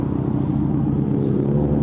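A loud modified car with cowl induction, seized for a noise violation, rumbles steadily and close by in a deep continuous drone with no pauses.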